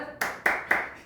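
Three crisp, evenly spaced handclaps come from a group of students clapping in unison in a classroom, close and clear against near silence.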